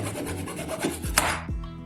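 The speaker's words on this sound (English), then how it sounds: "Take an old toothbrush and cut off the bottom half of the handle." An old plastic toothbrush handle being cut through near its bottom half, giving close, scratchy rasping strokes that end in a brief sharper snap of noise.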